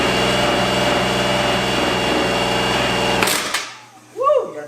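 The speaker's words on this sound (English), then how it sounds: "We're gonna go ahead and just start it with the drill" A drill spins over a 100hp drag quad engine to crank it: a dense, steady mechanical whir and buzz for about three seconds, then it cuts off abruptly, leaving a brief quiet before a voice speaks.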